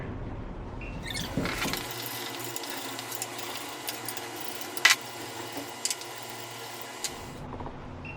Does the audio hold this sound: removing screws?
yes